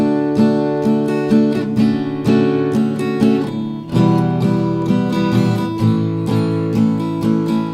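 Steady acoustic guitar strumming of a song in an even, straight rhythm with no swing, repeated chords played loud and close for several bars.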